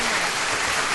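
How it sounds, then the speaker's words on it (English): A short burst of applause, like a clapping sound effect, comes as a dense, even crackle of many hands throughout one second. "You get some claps for that."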